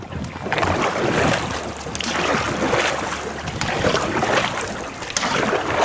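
Dragon boat paddles splash and pull through water in a steady rhythm, with a rushing wash and wind noise throughout, fairly close and without voices.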